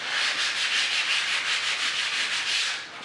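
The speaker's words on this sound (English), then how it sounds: "So I have my sanding pad here, and I'm going to sand this area here," A sanding pad rubbed back and forth over filled new crown molding, a steady close scratchy rasp with a gentle rhythmic pulse from the strokes, continuous and alone.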